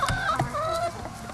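Laying hens clucking inside a large free-range henhouse of thousands of birds, a dense overlapping chorus of clucks and short calls with a few sharper squawks standing out nearby.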